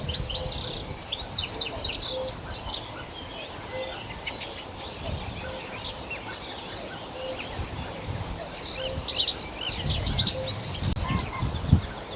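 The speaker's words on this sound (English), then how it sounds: "cuckoo birds are back, and there's one really strongly singing at the moment" Outdoor birdsong with a repeated two-note cuckoo call sounding at intervals in the distance, mixed with chirping birds and insect buzz.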